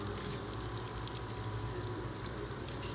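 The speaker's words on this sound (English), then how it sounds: "I'm going to add a stick of butter." A cut-up stick of butter melts into hot bacon fat in a pot for corn chowder, producing a steady soft sizzle and bubbling at moderate volume with no voices.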